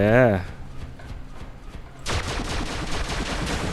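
Rapid bursts of gunfire from the War Robots video game, a dense crackling barrage that kicks in loudly partway through and keeps going, with a brief voice heard at the start.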